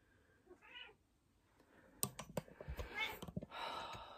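A house cat meows indoors, one short faint meow followed by a louder, drawn-out complaining call, mixed with scattered clicking or tapping sounds nearby.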